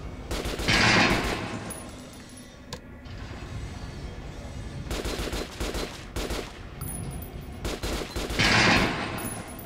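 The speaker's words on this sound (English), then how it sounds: "that's my assault rifle, not my shotgun" An assault rifle fires in Metro: Last Light, with loud bursts of rapid automatic shots and a few shorter volleys separated by brief gaps.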